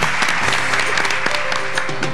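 Studio audience on a Spanish television quiz-comedy show applauding the winning team, a dense burst of clapping filling the whole moment with no talk over it.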